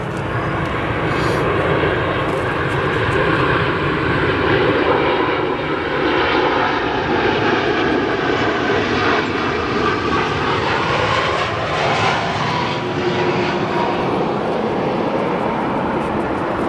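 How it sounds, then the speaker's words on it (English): A Boeing 787-10 lands on runway 10 Center at O'Hare, producing a loud, continuous engine roar that stays close and powerful throughout, its pitch shifting slowly as the jet passes. "So let's look at our 787-10 here, arriving on 10 center."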